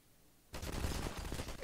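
A neon gun firing in the Garry's Mod game, a rapid burst of loud, crackling shots that starts abruptly after a brief silence and runs continuously to the end.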